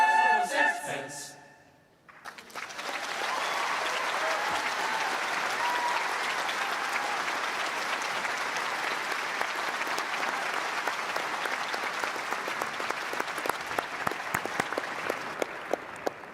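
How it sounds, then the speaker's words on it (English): A graduation ceremony audience breaks into sustained, dense applause after a brief musical ending, the clapping swelling quickly and holding steady for many seconds at a fairly close, full volume, no voices over it. "Why don't we give them another round of applause?"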